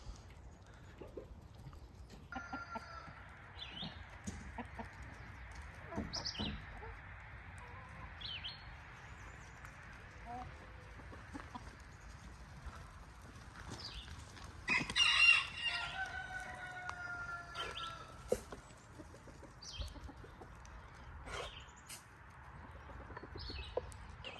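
Chickens raised as meat birds cluck and call faintly at an off-grid homestead on a cold morning, a rooster crowing among them, with scattered bird sounds over a low outdoor background.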